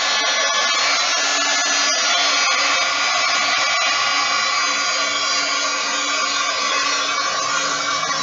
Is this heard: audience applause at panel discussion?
no